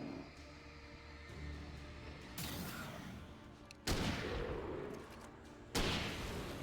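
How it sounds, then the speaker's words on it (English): Two hunting rifle shots in Alan Wake, each a sharp loud crack with a lingering rumble, spaced about two seconds apart over a low ambient background. "Took 2 shots from the hunting rifle."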